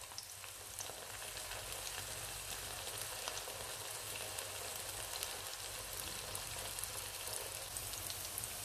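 Zucchini frying in a pan over a moderate flame, an even, close crackling sizzle with fine popping that holds steady throughout, no voices.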